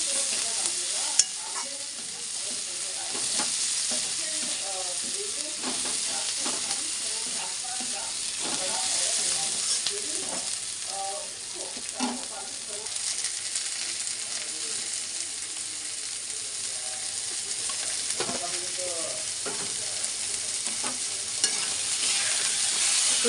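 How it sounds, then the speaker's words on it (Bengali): Onion and eggplant fry in a pan, giving a continuous sizzle broken by frequent scraping stir strokes, with a voice talking intermittently over the cooking. "তো দেখো কিছুটা পেঁয়াজ আমার ভাজা ভাজা হয়ে গেছে, আর তারপরে আমি বেগুনটাকে দিয়ে দিলাম"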